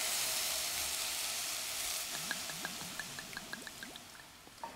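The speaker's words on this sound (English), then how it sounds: "It's time for some wine." Wine poured into risotto rice in a hot pan, a sizzling hiss that swells as the liquid hits, followed by a run of small, close bubbling pops and drips.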